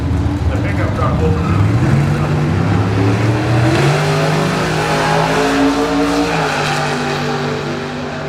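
A shoebox Chevy and a pickup truck launch off a drag strip starting line at a nostalgia drag racing event, engines roaring loudly and climbing in pitch, with an announcer talking over the racket.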